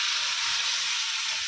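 A pan of small-chopped tomatoes, four or five of them, fries on the stove, giving a steady close sizzling hiss with no break and no talking.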